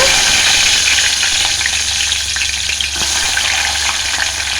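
Chopped onions fry in oil with cumin seeds in a pot, giving a loud, steady, close sizzle and crackle that holds unbroken throughout, with faint stirring and no voices.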